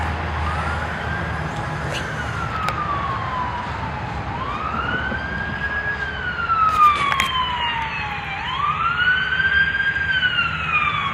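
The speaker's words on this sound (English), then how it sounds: "There goes an ambulance." An ambulance siren wails in long rising and falling sweeps as it passes by a backyard vegetable garden, moderately distant and steady, growing slightly louder toward the end over faint outdoor background.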